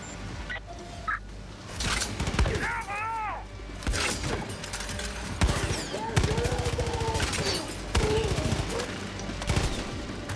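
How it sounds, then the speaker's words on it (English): Saw launcher fired in the video game Far Cry New Dawn, repeated rapid mechanical bursts and impacts among warbling whirs and game effects, loud and busy, with a voice talking over parts. "Let's go for a little bit of saw launcher action."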